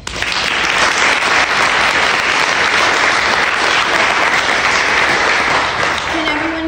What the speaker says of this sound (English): Let's give another round of applause for the seniors.